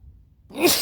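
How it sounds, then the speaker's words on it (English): A single short, sharp sneeze bursts out after a moment of near silence, close and fairly loud. "bit of a sneeze there"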